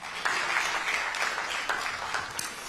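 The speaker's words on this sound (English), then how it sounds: "I think we can applaud him on that first before I continue." An audience at a community heroes awards ceremony breaks into sustained, dense applause, with many hands clapping at an even level for the whole stretch.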